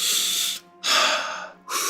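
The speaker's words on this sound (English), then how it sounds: "Loudly breathing in and out." A person breathes loudly in and out, three forceful, close, airy breaths in steady succession with brief gaps between them.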